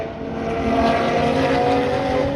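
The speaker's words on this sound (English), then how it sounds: "Tom Clower, number 52 car." Race car number 52 drives on track during Monterey Car Week, a loud sustained engine roar holding a steady pitch as it passes close by, with no talk.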